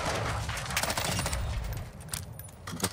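Rapid bursts of gunfire crackle close and loud in Call of Duty: Modern Warfare II, shots overlapping in quick volleys like automatic weapons.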